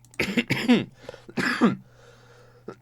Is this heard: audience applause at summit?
no